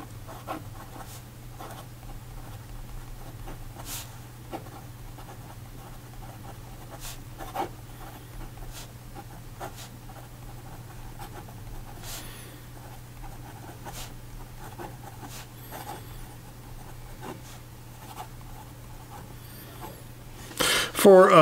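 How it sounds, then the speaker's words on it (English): Pilot Elite E95S fountain pen with a fine nib scratching out a writing sample on paper, a soft continuous scratch with short strokes over a low steady hum, close and quiet. "here we go with the writing sample"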